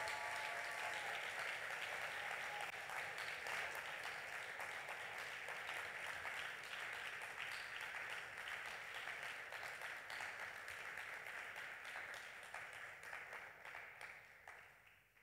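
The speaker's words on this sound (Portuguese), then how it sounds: "dar um aplauso bem forte ao Senhor" A church congregation applauding, dense sustained clapping from a large crowd that carries on for the whole stretch and fades away at the end, with no voices standing out.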